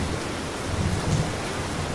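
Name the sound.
thunderstorm with rain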